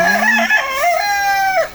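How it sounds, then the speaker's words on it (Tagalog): A rooster crows loudly and close by, one full drawn-out cock-a-doodle-doo call rising and falling before cutting off. "Ay, chicken. Dami nilang manok."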